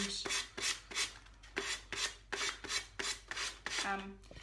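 Rhythmic rasping strokes of sandpaper rubbing along the edge of a napkin decoupage piece, about a dozen quick back-and-forth passes, close and steady with no talking.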